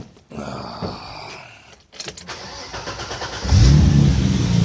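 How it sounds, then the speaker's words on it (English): A turbocharged BMW E30 engine with an Alpina-grind cam cranks, catches and settles into a rumbling, slightly lumpy idle, nearby and growing louder after the start. "I'll kick it over and let it idle for a little bit. Starts good."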